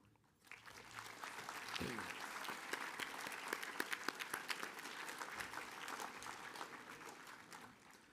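A school assembly audience breaks into sustained applause, with many hands clapping densely and evenly for several seconds in a large hall.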